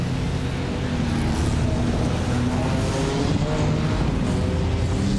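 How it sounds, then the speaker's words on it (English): A racing car splutters past down the straight at Spa-Francorchamps in the iRacing video game, a dense, rumbling engine drone that stays loud and steady throughout, with no talk over it. "Just trying to listen in there as the car went past."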